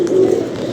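Pigeons kept in a home coop give a short, close coo, a single brief burst that fades quickly.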